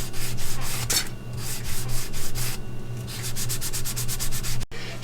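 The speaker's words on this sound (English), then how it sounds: "I'm gonna try and sand that real quick." Sanding a part for a homemade Tesla gun build: steady, loud rhythmic back-and-forth rasping strokes repeat throughout, with a brief pause near the end.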